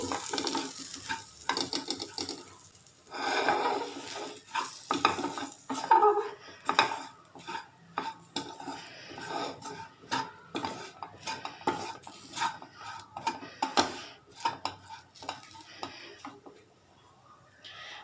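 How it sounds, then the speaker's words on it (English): Masala frying in a pan for chana masala, stirred with a metal utensil that clinks and scrapes against the pot in quick irregular bursts over a low sizzle, close by, with some talking. "Again fry it nicely, just for a minute or two."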